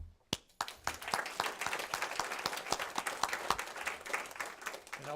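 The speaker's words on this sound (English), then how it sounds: "You deserve all the accolades and applause that we can give you." Audience applause for an honoree at a civic community event, a dense burst of many hands clapping that starts abruptly and carries on steadily and fairly loud throughout.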